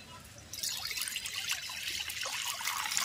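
Liquid milk poured into a kadai for a raw mango milk pudding, a steady close trickle and splash that starts about half a second in and runs on without pause.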